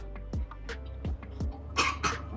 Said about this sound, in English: That baby is still coughing, eating baby food.